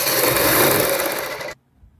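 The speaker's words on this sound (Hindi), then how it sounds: "यहाँ पे हम इसको पक्का करने के लिए डबल सिलाई लगाएंगे।" A sewing machine runs a fast, continuous double line of stitching around a kurti neckline. The dense mechanical whir holds for about a second and a half, then cuts off abruptly into near silence.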